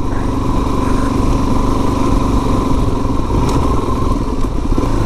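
A motorcycle engine idling out in the countryside, a loud, close, steady rumbling chug with light mechanical clatter throughout.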